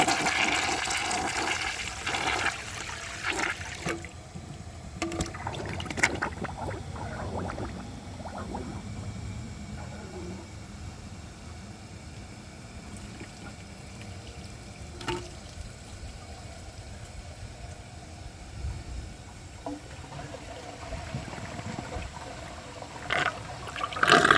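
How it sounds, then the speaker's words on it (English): A Mansfield Alto comfort-height toilet flushes loudly up close, a rushing surge of water that settles into a long swirling drain and trickling refill, with a few bumps and a renewed gush near the end. "So I'm going to flush it again and see if that'll go through."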